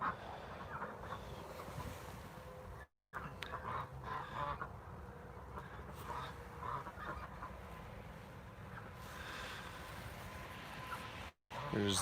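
Geese and ducks on a farm at night, their clucking, fowl-like calls scattered through steady wind buffeting the microphone, with a brief spoken voice nearby.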